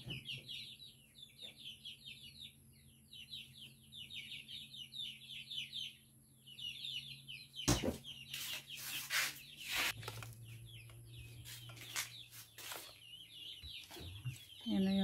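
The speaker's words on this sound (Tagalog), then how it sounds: "Akong manok pumapasok." Chickens cluck and call repeatedly around a home kitchen, a steady stream of bird sounds with sharp clatters and knocks breaking in partway through.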